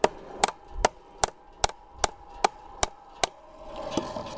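Nine evenly spaced hammer blows ring out as wire staples are driven into a wooden fence post, sharp and close, about two per second, followed by faint handling noise.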